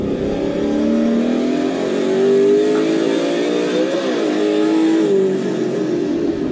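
Group A Holden Commodore race car with a 5-speed gearbox, its engine droning loud and close with a steady rising rev, a brief gearshift dip and pickup, then pulling on again, with no talking.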